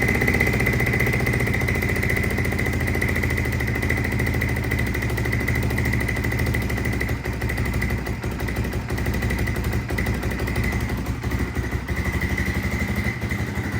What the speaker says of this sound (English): So it is idling, but we need to turn that idle down a little bit